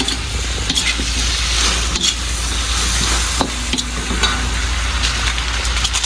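Chopsuey with bell pepper stir-fried in a pan, a steady loud sizzle with scraping stirring strokes throughout and no talking.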